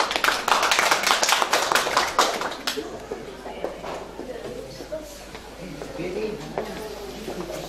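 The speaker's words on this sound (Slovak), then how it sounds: "Potlesk." Applause at a 60th birthday celebration for a woman, with dense clapping from the guests that is loud at first and then thins out and fades over several seconds while voices murmur underneath.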